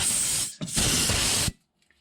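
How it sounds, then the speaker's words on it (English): Brake cleaner is sprayed onto a Honda Pioneer 700 utility vehicle during an oil change, heard as two close, loud hissing aerosol bursts, a short one and then a longer one, followed by silence. "I'm gonna take a little bit of brake cleaner."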